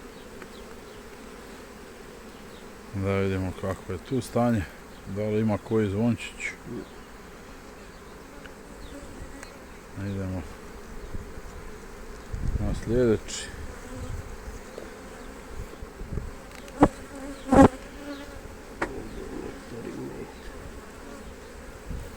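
Honeybees hum steadily around an opened beehive during a full inspection in a nectar- and pollen-rich season, with someone talking intermittently over the buzzing and occasional sharp clicks and knocks.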